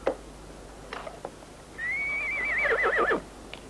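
In a western film scene, a horse whinnies loudly with a rising, wavering neigh, preceded by a few soft hoof clops and scuffs nearby.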